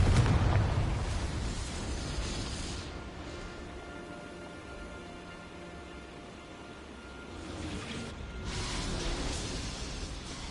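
A Confringo fire spell bursts into a heavy explosion in the Hogwarts Legacy video game, a loud broadband blast and rumble fading over several seconds before a second surge of roaring rumble swells near the end.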